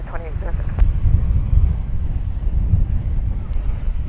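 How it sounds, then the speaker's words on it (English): An airplane roars at DFW Airport, a steady low rumble carried on gusty wind with a person talking over it. "Watch the planes come in."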